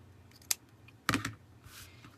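Scissors snip decorative ribbon at an angle while making a simple bow, producing a few sharp, close cutting clicks and crisp snips spaced out in a quiet room.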